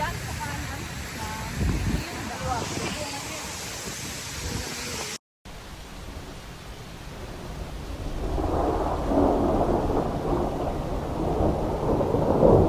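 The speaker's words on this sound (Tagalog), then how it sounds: "inabot tayo ng matinding ulan" Heavy rain pours steadily at Jacksonville's Friendship Fountain, with thunder rumbling low underneath and swelling louder toward the end.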